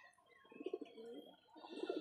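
A racer pigeon gives low, throaty coos in two short bursts, close but quiet, with faint background noise and no talking.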